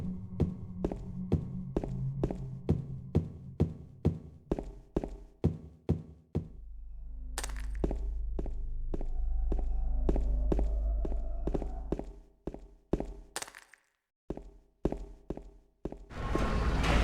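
Footsteps in the video game Silent Hill 2 fall in a steady walking rhythm, each step sounding slightly different, with a low rumbling ambience swelling in the middle before the close, distinct steps return.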